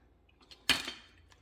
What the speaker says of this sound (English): just give them a little stir. Stir them around.